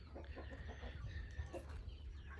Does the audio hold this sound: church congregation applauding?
no